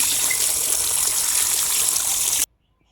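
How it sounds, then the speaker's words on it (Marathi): Fresh okra being rinsed in clean water, heard as a steady, close gush of running water that pours continuously for about two and a half seconds and then cuts off abruptly into silence. "मी आता स्वच्छ पाण्याने धुवून घेते भेंडी"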